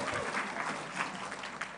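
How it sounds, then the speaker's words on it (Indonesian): Audience applause at an honorary professorship inauguration ceremony at a university in Indonesia, a steady wash of many hands clapping through the short stretch with no voices on top. "Ini harus tepuk tangannya agak banyak ini."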